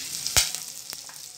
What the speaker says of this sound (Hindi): अब इसमें प्याज, 1 प्याज डालना है, हरी मिर्च